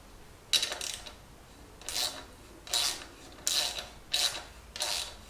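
Tightening bolts on a YZ250 dirt bike during a restoration, with about five short rasping bursts at a steady pace, close and fairly quiet, and no talk between them.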